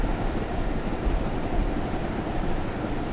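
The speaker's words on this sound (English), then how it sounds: "Train's almost passed." A turbine-powered Union Pacific train rumbles past in Train Simulator 2016, a steady dense roar of rolling wheels and engine noise that holds constant and loud without a break or voices.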